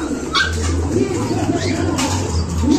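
Pigeons coo close by in a loft or yard, soft repeated low throaty calls running throughout the short stretch, with light background chatter and rustling around them.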